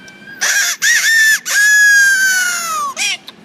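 A rooster's crow imitated on a whistle: a few loud, choppy opening calls followed by one long, sliding, strained crow that tails off, then a final short note, all close and solo.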